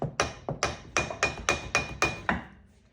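A brake hose banjo bolt is tapped on its back with a metal tool, about nine sharp, ringing strikes in quick, even succession over under three seconds, close and clear with no talk.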